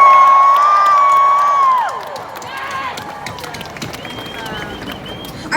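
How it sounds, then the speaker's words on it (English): Large outdoor crowd at a climate strike rally cheering and shouting, loud at first and then settling into a scattered murmur of voices and whoops, with a few high calls rising above the mass. "can I get a huge cheer for that?"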